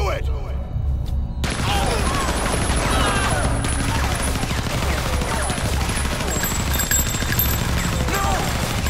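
Gunfire from the video game Resident Evil Zero: dense, continuous volleys of rapid automatic shots crackling and booming together for several seconds, loud and close, after a brief quieter opening.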